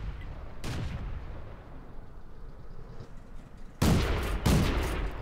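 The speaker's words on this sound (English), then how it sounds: "Just firing a couple of blind shots there in case the tank is still up there" Cannon shots from a Renault UE 57 tank in World of Tanks: one heavy blast early, then two more booming shots close together near the end over a low rumbling battlefield background.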